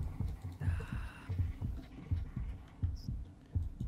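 A heartbeat effect in the horror video game Spectral Stream: a low, loud thumping throb beats in a steady rhythm throughout, with faint game sounds above it.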